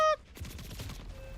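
Video game gunfire: a rapid burst of shots in a quick rattling run, fairly close, after a short tonal beep, with no talk.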